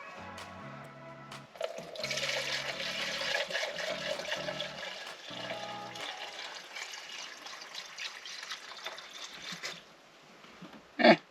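Kerosene-type heater fuel glugs and trickles as it is poured from a 25 litre jug into a Valor Junior heater, a steady liquid stream lasting several seconds, with background music and a sharp clunk at the end.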